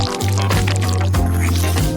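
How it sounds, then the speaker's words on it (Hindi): Soft, wet squishing and dripping as filling is poured into a hole cut in a layered dish, close and continuous for a couple of seconds, with a low steady hum underneath. "अब फिलिंग को अंदर डालेंगे।"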